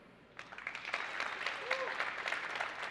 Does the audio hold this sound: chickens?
no